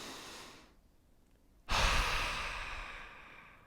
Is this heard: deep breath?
yes